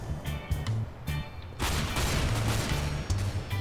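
Rapid gunfire bursts and booms from a Counter-Strike: Global Offensive match with a Nova shotgun, several sharp shots in quick succession followed by a dense stretch of overlapping fire.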